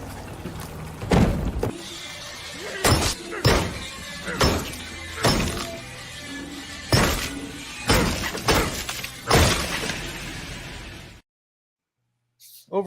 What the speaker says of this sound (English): I love that he jams his head into the glass